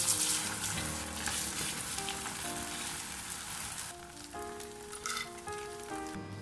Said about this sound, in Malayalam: 2 ബാച്ചും ഇതുപോലെ തന്നെ വറുത്തെടുക്കാം.